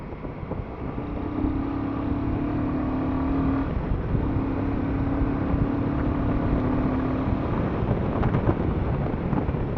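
A motorbike rides along a winding forest road on the way to Medaram, its engine a steady, close drone blended with wind rush that runs unbroken for the whole stretch, with no voices.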